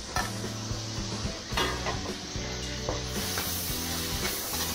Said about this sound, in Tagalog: Gisa na tayo.